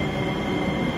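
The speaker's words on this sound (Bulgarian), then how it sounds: "Влака идва оттам, аз го чувам оттам" A train approaches on a mountain route toward Cherni Vrah, heard as a steady, broad rumble of rolling rail wagons that fills the whole short stretch without pause, moderately loud and unaccompanied by voices.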